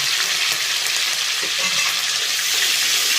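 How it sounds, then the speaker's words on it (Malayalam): Curry leaves fry with shallots in hot oil in a continuous, loud, close sizzle, with faint stirring scrapes underneath. "നമുക്ക് കുറച്ച് കരിയാപ്പിലയും കൂടെ ഇട്ടിരിക്കുക"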